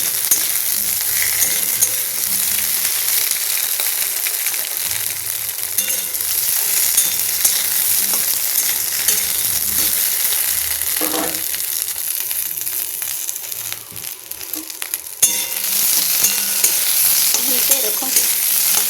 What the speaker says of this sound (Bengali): কড়াতে একটু জাস্ট নাড়াচাড়া করে নেব